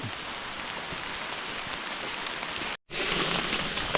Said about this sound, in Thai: ฝนตกครับ ทุกคน